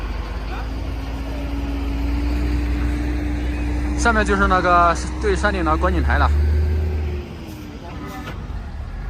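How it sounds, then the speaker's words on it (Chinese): Vehicles idle in a traffic jam at the Zheduo Mountain summit, a low steady engine rumble with a faint whine, while a person talks over it in the middle. "折多山山顶堵车了"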